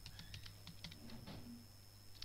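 Quick bursts of keystrokes on a computer keyboard as a password is typed, light irregular clicks close by over a steady low hum, with no talking.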